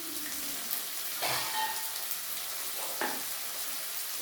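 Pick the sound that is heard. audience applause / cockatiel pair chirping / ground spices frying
ground spices frying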